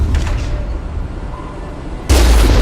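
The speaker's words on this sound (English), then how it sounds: "We have a cannon." A vehicle-mounted cannon in the video game Mass Effect fires one loud, sudden blast near the end, cutting in sharply over a low rumbling background.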